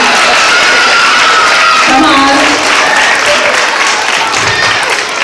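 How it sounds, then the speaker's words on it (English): Loud applause fills a school community gathering for parents and grandparents standing to be honored, with dense clapping and some cheering throughout, while a voice calls out briefly over it. "Let's give them an extra round of applause"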